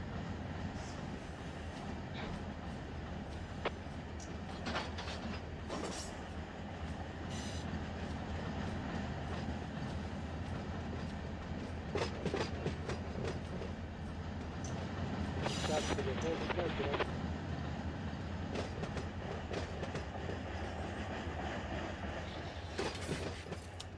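Huge freight train running in the train simulator Run 8, a steady rumbling roll of wagons with rhythmic clickety-clack under occasional talk, sustained at a moderate level throughout.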